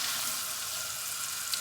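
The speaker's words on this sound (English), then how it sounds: "So we're gonna saute this until it just softens" Onion sautes in a pan, a steady close-up sizzle and crackle of frying that stays even throughout without any speech.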